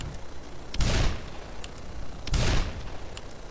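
Two booming gunshots in the video game Black Mesa, spaced about a second and a half apart, each with a short decaying tail, plus a few faint clicks in between.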